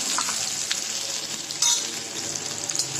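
Constant vigorous sizzling of onions frying in an iron kadhai, with occasional scraping and stirring noises, loud and close; no speech.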